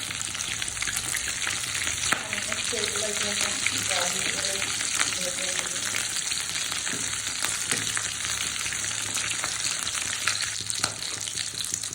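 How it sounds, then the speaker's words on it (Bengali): Potato pockets frying in hot oil: a loud, close, continuous crackling sizzle with rapid popping that stays even throughout, with a few faint tonal sounds in the background. "এখন হচ্ছে আমি গরম তেলে এগুলো ভেজে নেব।"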